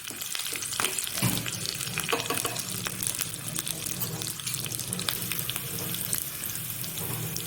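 Asafoetida, cumin and green chilli sizzle and crackle in hot ghee, a continuous close frying hiss with scattered pops and faint stirring.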